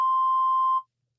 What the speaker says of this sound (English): Where's the beep?